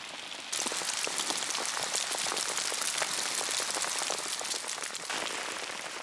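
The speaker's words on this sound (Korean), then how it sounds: "갑자기 우박이 쏟아집니다." Hail pours down on the Rwenzori trail in Uganda, a dense, loud, continuous patter of countless hard pellets striking close by, starting abruptly and holding steady throughout.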